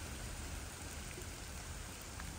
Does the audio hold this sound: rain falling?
yes